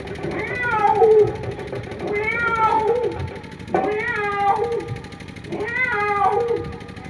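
A person's voice imitates a cat, giving four long, drawn-out meows in a steady rhythm, loud and close.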